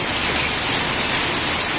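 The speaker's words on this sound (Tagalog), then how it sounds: "lakas ng buhos." A heavy rain downpour from Typhoon Uwan roars as a loud, dense, unbroken wash of noise, close and constant with no voices.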